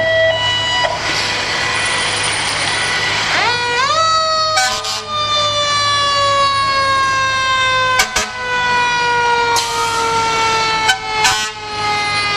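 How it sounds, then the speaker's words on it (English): Fire engines at the Lassen County Fair Parade sound loud, sustained wailing sirens that rise and fall, with horn toots and sharp blasts breaking in near the middle and end. "at this point, we get all these engines revved up"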